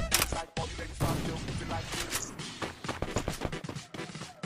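Rapid gunfire bursts in Garena Free Fire, sharp cracks and clattering shots in quick irregular succession, close and fairly loud amid game noise.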